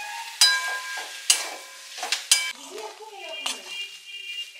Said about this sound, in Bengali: সেদ্ধ করে রাখা মাছটা এই মশলার মধ্যে অ্যাড করে ভালো করে নাড়াচাড়া করে নিতে হবে